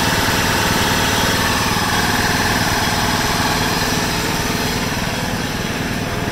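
A 1996 John Deere LX176 lawn tractor engine, restarted after sitting for several years, runs steadily at a loud, close idle with a constant rumbling chug and no break, with no voices over it.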